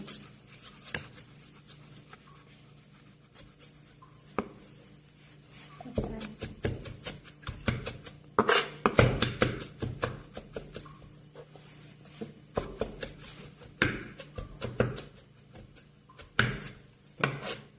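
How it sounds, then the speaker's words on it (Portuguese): Chives (spring onion) chopped with a knife on a board for temaki, irregular bursts of quick close knife taps on wood with pauses between them, moderately loud. "Então a gente vai picar aqui a cebolinha."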